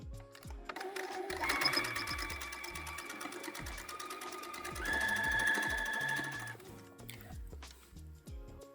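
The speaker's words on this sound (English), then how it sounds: "You can put this back under the sewing machine and take another pass of stitches just on the edge" Sewing machine running a pass of stitches along the folded edge of a horsehair hem, a steady, fast mechanical whir with a rapid ticking rhythm that rises slightly partway through, close and continuous.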